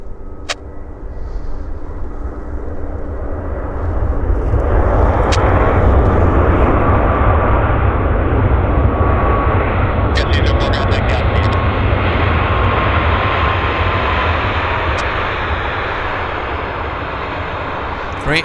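An Air Canada airliner rolling out after landing at Vancouver airport, a loud sustained jet roar that swells after a few seconds and holds steady, then eases slightly toward the end.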